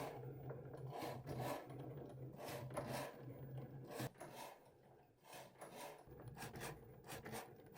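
A Cricut machine cuts cardstock with a rasping, grinding scrape and mechanical whirring from the moving carriage, sounding in uneven passes with short pauses, close and fairly quiet.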